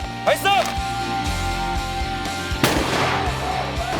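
Military guns of a mechanized infantry division's armored reconnaissance battalion fire on command during a live drill, a loud sharp blast standing out at mid-clip amid rumbling engines, with a shouted command and a few fainter reports nearby.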